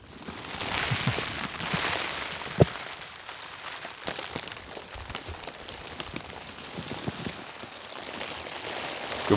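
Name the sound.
rain and sleet falling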